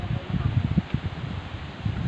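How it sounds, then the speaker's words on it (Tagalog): Strong wind gusts through leaves in a rural provincial setting, a steady rustling roar with soft low buffeting, loud and close throughout. "Ang lakas kasi ng hangin."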